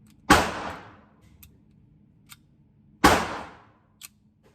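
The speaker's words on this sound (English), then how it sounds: "I want to fire it one more time just because I have not since 1994" Two sharp pistol reports from a Jennings J-22 .22 handgun at a shooting range, spaced about three seconds apart, each with a short decaying tail, plus a few faint clicks between.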